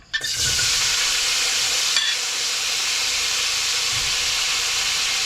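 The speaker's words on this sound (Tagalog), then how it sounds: "Magsimula na tayong magisa ng lamas. Sibuyas, kamatis at bawang." Onion, tomato and garlic hit a hot pan and sauté with a loud, steady sizzling hiss that carries on evenly throughout, close and with no talking.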